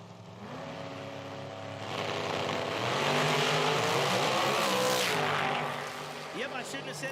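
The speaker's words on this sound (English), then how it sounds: "Problems for the Hayes machine. Got out of shape, had to get it back on all four wheels" A nitro drag race car makes a run at an IHRA Outlaw Nitro Series event, a loud engine roar swelling and then fading as the car gets out of shape, with an announcer talking over it throughout.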